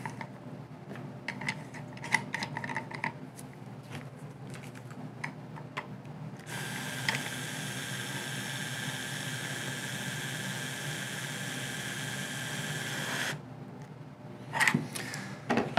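An Atlas Copco power fastening tool runs at a steady whine for several seconds as it tightens a bolt on a lubricated rubber washer, then shuts off; quieter handling clicks come before and after.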